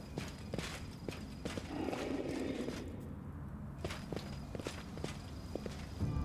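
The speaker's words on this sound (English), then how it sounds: "More of these horses." Horses walking in the fantasy video game Pathfinder: Wrath of the Righteous, a scatter of soft hoof clip-clops and footsteps at moderate distance over a low ambient bed, with no voices.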